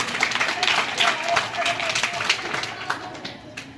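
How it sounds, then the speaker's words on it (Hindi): An audience at a school quiz programme marking Gandhi and Shastri Jayanti claps for a correct answer, a moderate patter of many hands running throughout while a voice talks over it. "ताली बज जाए इनके लिए"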